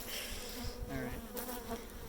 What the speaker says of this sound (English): Oh my god, that was a bee on my camera.